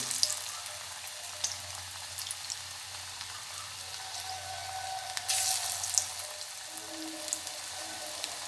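Small pea pakoras fry in hot oil in an iron wok over a very low gas flame, giving a soft, steady bubbling sizzle with a few sharper crackles and a brief louder flare near the middle.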